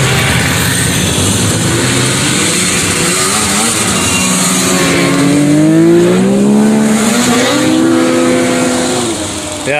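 Vintage snowmobiles at a winter show in Newport Center, Vermont, revving their engines loudly and continuously, with rising and falling throttle pitch as sleds pass close by, under some faint voices.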